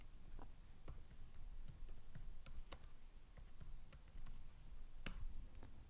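Keystrokes tapped on a computer keyboard in a quiet room, an irregular run of sharp close clicks with short pauses between bursts.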